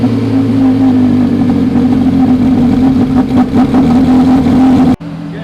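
A Porsche Carrera GT engine runs loud and close with a steady, strong hum and some rising revs, then cuts off abruptly near the end, leaving a quieter background.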